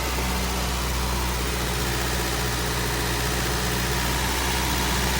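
The engine of a 1973 MGB GT runs right after installation, idling around 2,000 rpm in a steady, loud, close drone with low rumble and an even mechanical hum, no voices.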